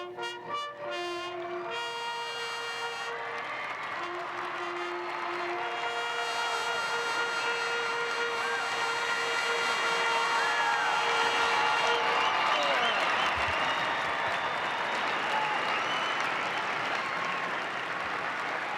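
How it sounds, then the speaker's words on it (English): Sustained crowd applause and cheering for the retiring racehorse Cigar fills Madison Square Garden, rising in intensity with brass fanfare playing over it, steady and loud throughout. "listen to the crowd and their respect for Cigar"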